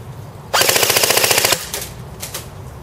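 A Type 56-2 airsoft rifle fires one fast full-auto burst of about a second on a 9.6 volt battery. The rattling shots are close and loud and stand alone, with a few faint clicks afterward.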